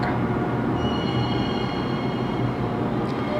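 A train runs on rails with a continuous, loud rumble of wheels and cars, and a thin squeal rides faintly on top. No one speaks.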